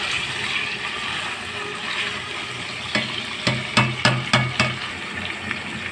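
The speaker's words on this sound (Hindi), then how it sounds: "अब मैं ये चिकन भूनूंगी इसमें अच्छी तरीके से" Chicken being stir-fried in a pan gives a steady background sizzle, followed by a quick run of sharp spatula clacks and scrapes against the pan.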